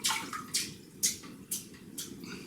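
A wet synthetic shaving brush is shaken about half a dozen times, sending out a run of short splashy flicks of water at an even, quick rhythm, close by and over a faint background hiss.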